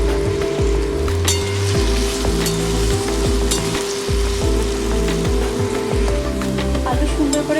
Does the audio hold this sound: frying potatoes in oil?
yes